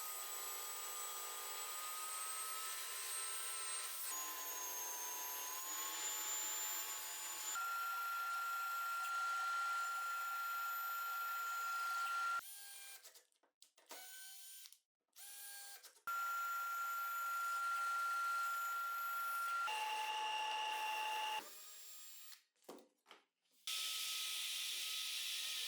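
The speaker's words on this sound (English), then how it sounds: "Now I'll drill holes for the self-lubricating sleeve bushings that allow for Z-axis movement, and finish machining the pieces." A machine drills holes for self-lubricating sleeve bushings in pieces of a homemade portable mortiser, giving a faint, steady whine that holds for long stretches and breaks off in short pauses and clunks.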